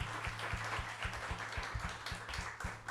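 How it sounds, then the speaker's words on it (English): Audience applause greets a panel at a talk on the history of women's incarceration, a steady wash of clapping with low rhythmic thumps running beneath it. "Can we give this panel a round of applause?"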